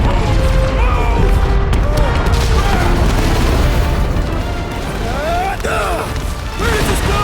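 Explosions in the video game Guardians of the Galaxy, with heavy booms and crashing debris rumbling over a continuous chaotic action din, loud and close throughout, mixed with shouting voices and whooshes.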